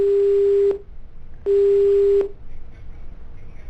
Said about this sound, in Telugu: ఓకే, కాల్ కట్ అయిందండి